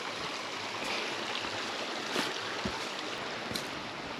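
Steady stream of water flowing along a walking path near a bench, a continuous close broadband rush with small splashy surges and no talking.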